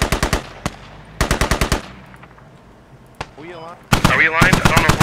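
Artillery in the video game Squad fires in rapid bursts of sharp booming shots, one group near the start and another heavy volley at the end, while a voice talks over the quieter stretch between.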